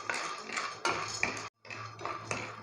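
Peanuts roasting in a kadai: dry nuts rattle and clink against the metal pan in repeated close stirring strokes, with one brief pause.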